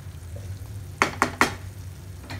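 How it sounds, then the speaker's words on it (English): Fried fish gets stirred gently into a curry in a pan, three quick scraping knocks over a low simmer, soft and close with no voice. "add the fried fish. Mix it very gently"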